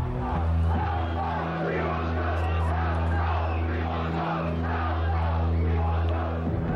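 A large crowd of anti-draft protesters shouts a slogan in unison in a park during a Chicago Vietnam War protest, a dense, steady roar of many voices lasting throughout.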